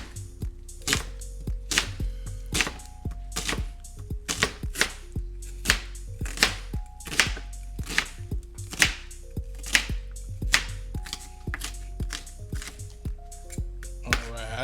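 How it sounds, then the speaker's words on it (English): Rapid knife chops through an onion knock against a cutting board in a quick, uneven rhythm, close and crisp, with faint tonal pings between strikes. "I think that's all the chopping we need to do"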